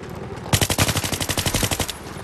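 Rapid automatic gunfire from the video game Battlefield 3, a close, loud burst of about fifteen evenly spaced shots lasting under two seconds, with a quieter lead-in and tail.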